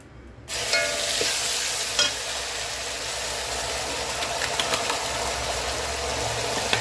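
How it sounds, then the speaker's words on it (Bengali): Bay leaf and a ground paste of ginger, garlic, onion, mustard and green chilli frying in oil for a fish curry, a loud sizzle that bursts in suddenly and then holds steady and close throughout. "এবার আমি মাছের ঝালের জন্য প্রথমে তেলের মধ্যে তেজপাতা, তারপর মিক্সিতে পিষে নিয়েছি পিষা হওয়া মশলা"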